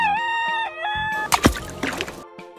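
A rooster crows once, loud and close, with a long harmonic call holding steady for over a second, then some clucking and a brief noisy scramble at the end.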